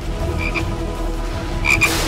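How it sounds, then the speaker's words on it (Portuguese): Frogs croak in the video game Garten of Banban 4, a few short rasping calls at mid distance over a steady low ambient drone, with a brief burst near the start and a louder pair near the end. "Estou escutando barulho de sapos."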